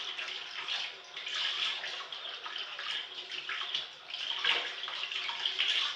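Tap water runs steadily and close by while a coffee maker's filter basket is rinsed clean, a bright continuous splashing that swells and dips as items are moved under the stream.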